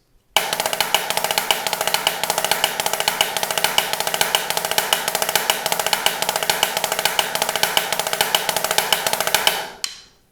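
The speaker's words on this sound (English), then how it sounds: "we're going to work on the 6-stroke roll. That sounds like this" A snare drum playing the six-stroke roll rudiment, a dense unbroken stream of rapid accented strokes running for about ten seconds at a steady fast tempo, close and loud, then stopping abruptly.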